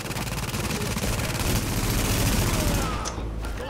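Rapid gunfire rattles in The Division during a firefight against a sniper, a dense, loud burst of continuous shots that tapers off near the end.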